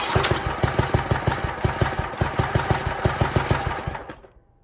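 Off-road lawn tractor motor running: a steady, rapid thumping engine putter, fairly close and moderately loud, that dies away and stops near the end.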